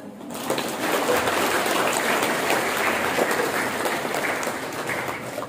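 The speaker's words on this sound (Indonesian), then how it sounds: "Mau tepuk tangan?" Sustained audience applause at a motivational university lecture, a dense, steady wash of many hands clapping that swells in and holds loud for several seconds.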